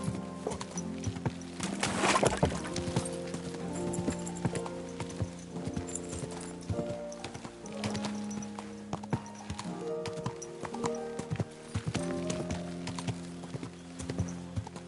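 Steady hoof clip-clops from a horse trot along continuously in Kingdom Come: Deliverance 2, with a brief whinny-like burst early on and a faint musical backdrop.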